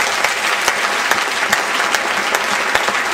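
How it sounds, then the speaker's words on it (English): Audience at a convention opening ceremony applauding, a dense, steady burst of clapping from a crowd with a few sharper individual claps standing out. "Please give them a round of applause."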